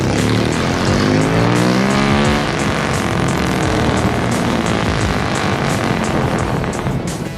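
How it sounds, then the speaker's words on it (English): A 1951 Chevy Fleetline with straight-pipe exhaust and Fenton headers drives on the road, its loud, rumbling exhaust rising and sweeping in pitch as it passes, sustained for several seconds. "definitely the 51 sounds louder than this one. It's straight pipe, and this one has a glass pack."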